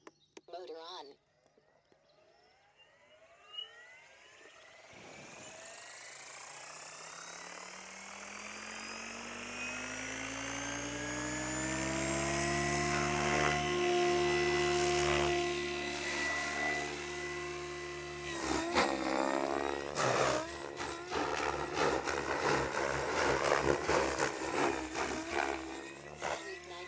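A Mikado V8 flybarless system on an SAB Kraken 700 RC helicopter, motor spooling up from silence into a steadily rising whine that settles into a loud, sustained rotor drone, with chopping blade noise and a voice speaking briefly.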